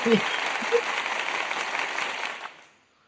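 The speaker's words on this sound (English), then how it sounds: "I meant the clapping. We're clapping." A group of people clapping together on a talk show, a steady burst of applause that holds for about two seconds before fading out.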